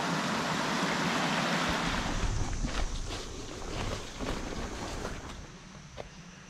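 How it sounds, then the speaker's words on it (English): A small stream in the Georgia woods flowing steadily nearby, a broad continuous rush of water that eases slightly in level toward the end, with faint knocks and rustles over it. "Beautiful little stream here."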